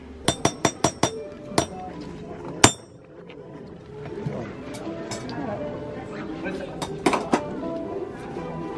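A hammer strikes stone at a medieval quarry site, with a quick run of sharp ringing blows followed by a few scattered hits, close by and mixed with people talking.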